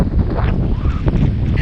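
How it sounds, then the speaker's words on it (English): Strong, gusting wind at a riverside campsite with whitecaps on the water, a loud, steady roar buffeting the microphone throughout. "it is getting nutty windy out there"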